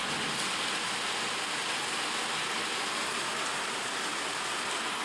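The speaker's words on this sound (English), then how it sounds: "It's raining outside" Steady rain falls outside, a dense even hiss of drops on surfaces with no speech, holding constant and fairly loud throughout.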